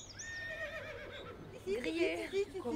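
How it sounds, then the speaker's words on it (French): Horses roaming free on open pasture, one giving a clear high whinny that trails off, followed by further snorting and neighing calls, fairly faint and close. "des pâtures à perte de vue et des chevaux en liberté"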